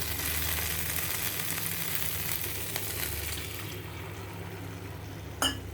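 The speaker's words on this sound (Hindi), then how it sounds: "अब मैं इसमें डाल दूंगी ग्रेवी के लिए पानी" Water poured into hot oil for kadhai paneer gravy sets off a steady, fairly quiet sizzle with bubbling liquid, easing slightly toward the end, followed by a brief clink near the close.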